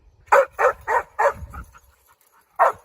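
A dog barks up a tree at a chipmunk, four quick loud barks in a steady rhythm, a short pause, then one more bark, close by with no talking.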